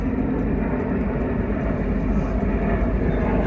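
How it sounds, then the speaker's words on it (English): An airplane passes overhead in London, heard as a steady, moderately distant roar. It holds constant for the whole stretch with no talk over it. "look at this plane. There goes another plane."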